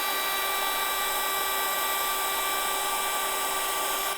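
An electric air pump inflates an air mattress in a cellar, giving a steady, loud, close whine with a constant hum and no break throughout.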